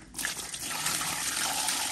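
Water pours and gushes in a continuous splashing stream during cleaning, close and steady throughout with no voices.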